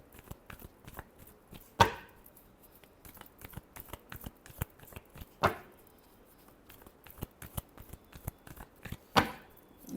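Tarot cards are shuffled by hand in a steady run of quick papery riffles and soft clicks, with three sharper, louder bursts spaced a few seconds apart; no one speaks.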